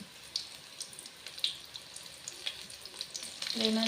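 Okra kurkure fries in hot oil, a soft steady sizzle with faint crackles and a brief louder rush at the end.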